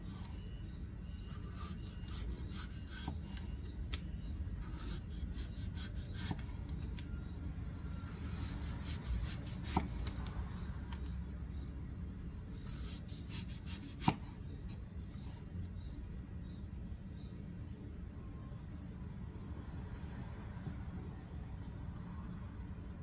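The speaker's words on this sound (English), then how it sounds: "we are really going to be doing some chopping and slicing here" A knife chops and slices cabbage and apple into matchstick pieces on a board, in quick clustered bursts of crisp cuts separated by short pauses, fairly quiet and without speech.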